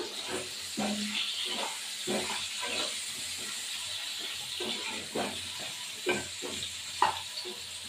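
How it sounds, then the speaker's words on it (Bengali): Potatoes frying in a pan, a steady close sizzle and hiss running throughout with scattered stirring scrapes and small pops. "আলুগুলো ভাজলাম।"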